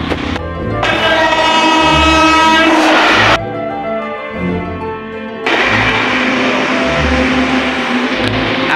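The last train of the night passes, a loud rumbling roar threaded with a steady tonal whine that dips briefly midway and then swells again, with no voices.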